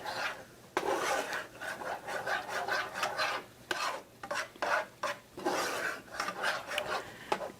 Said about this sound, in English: So we're just going to stir that up just a little bit more.